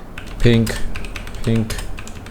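Keys clatter on a computer keyboard as answers are typed into a Mastermind programming game, a quick close run of clicks under two short spoken words.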